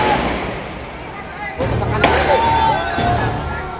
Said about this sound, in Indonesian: Kepolisian kemudian menembakkan gas air mata untuk menjaga ketertiban di lokasi.